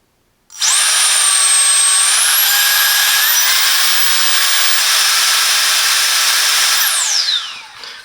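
A ZoomYao Max 2-in-1 handheld air blaster and vacuum switches on abruptly and runs with a loud, close, high-pitched whine that shifts upward as the speed changes, then winds down and stops after about seven seconds.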